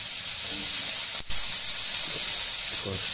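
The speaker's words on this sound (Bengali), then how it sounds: "পেঁয়াজগুলো লাল হওয়া, একটু লাল হওয়া পর্যন্ত অপেক্ষা করি" Onions fry in a pan with a loud, steady close-up sizzle and hiss that runs throughout, broken by one brief dip.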